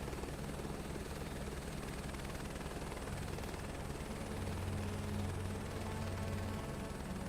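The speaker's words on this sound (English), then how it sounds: "Whoa, helicopter." A helicopter drones steadily overhead in the Microsoft Flight Simulator 2024 game, a constant rotor throb and engine whine holding at an even level throughout with no talk.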